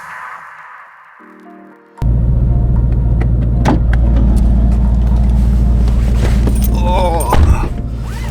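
A car sets off on snowy roads on new tires: a low engine drone starts abruptly and holds steady and close, with a brief whine near the start and a short louder bump late on.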